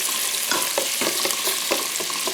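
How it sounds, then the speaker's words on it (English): Onions sautéing in a pan for collard greens, sizzling steadily with a dense, continuous crackle and occasional louder pops as they are stirred, close and fairly loud with no talking. "Then we'll get these onions in here. That's a little sizzly."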